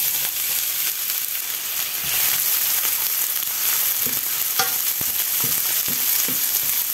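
Chopped onion sizzles steadily in a pan of five tablespoons of hot olive oil, with a dense close-up frying hiss and a few soft stirring knocks and scrapes near the end.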